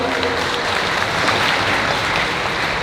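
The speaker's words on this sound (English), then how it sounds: "Round of applause. One for Neil." An audience at a fan convention Q&A gives a steady round of applause, dense continuous clapping filling the room at close range.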